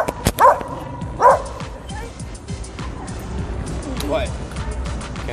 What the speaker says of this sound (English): You're gonna upset everyone around here with that dog.